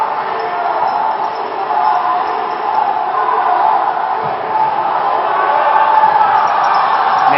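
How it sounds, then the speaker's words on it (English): A crowd at a USA versus Canada dodgeball world championship match, with the American team cheering in a steady, dense roar of voices that stays loud and even throughout. "American team cheering for that shot on Coach Vic on the Canadian side"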